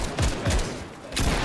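Bursts of gunfire in Fortnite Reload, a few sharp close shots and rapid volleys with a pause between, loud, with no talk.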